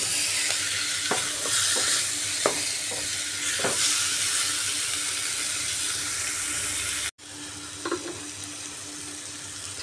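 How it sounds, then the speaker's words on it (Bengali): Chicken stirred and fried in spice masala in a pan for a chicken and bottle gourd curry, a steady close sizzle with repeated scraping stirs, briefly cut and then resuming, with no talking. "এইভাবে চিকেনটাকে মশলার সাথে মিক্স করতে হবে।"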